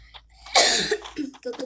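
A single harsh cough bursts out near the mic, followed by brief murmured voice sounds.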